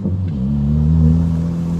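A remapped Ford Focus ST engine rises steadily in pitch as it accelerates, a loud, close, continuous rumbling drone with no talking.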